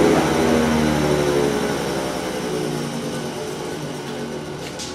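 The chopper motor of a Thunderbolt siren whirs loudly at close range, a droning that slowly fades in strength over a few seconds, with no voices.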